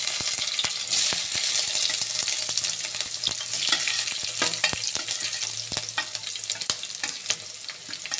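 Crushed ingredients frying with mustard seeds in a pan for a Mohanlal-style chicken dish give a steady, close sizzle, with scattered sharp ticks and spatters throughout and no talking.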